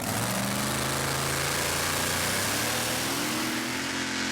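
Intertechno Predator, a Dutch pulling tractor driven by Henk Docter at a European Championship tractor pulling event at Bouconville in 2014, its engine roaring loudly and continuously in a dense, rough, full-throated blast.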